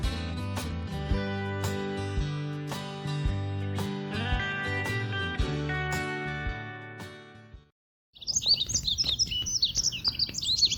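Birds chirp and tweet in a quick, bright, busy burst of song outdoors, heard alone and fairly close after a stretch of music fades out.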